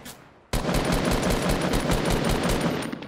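Rapid automatic gunfire in the video game Fortnite bursts in abruptly and continues as a loud, dense, sustained stream of shots until the end.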